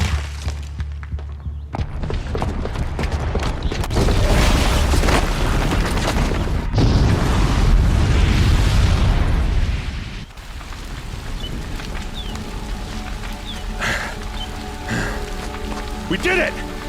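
A booby-trapped bomb goes off in Horizon Zero Dawn, a heavy booming blast with rumbling debris that roars loudly for several seconds, then settles into lighter crackling and falling rubble.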